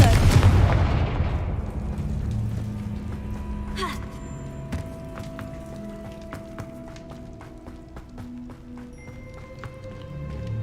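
A Confringo blasting-spell explosion in the video game Hogwarts Legacy: a loud burst at the start that decays into a low rumble, followed by smaller pops and clicks and faint game sounds.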